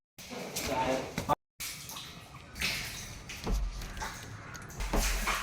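Water rushes and gurgles steadily as the last waste water drains from an old water tank, with a brief break and some low splashing thumps.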